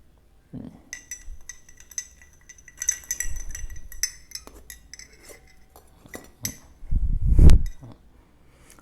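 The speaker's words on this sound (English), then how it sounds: "While I am stirring" A spoon stirs salt, sugar and lemon juice into a glass of water, giving bright, irregular clinks and taps against the glass with brief pauses and a louder clatter near the end.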